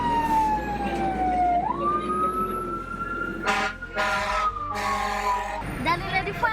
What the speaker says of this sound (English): Daddy, the fire truck comes.